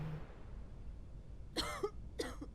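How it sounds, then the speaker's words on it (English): Two short bursts of coughing from a character in the video game Quarantine Zone: The Last Check, close and clear, separated by a brief pause over a quiet background hum. "Somebody's still coughing in there."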